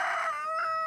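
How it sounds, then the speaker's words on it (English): A rooster crows once in a rural yard in Puerto Rico, a loud, close, harmonic call lasting under a second with no talk over it. "to see my mom's chickens?"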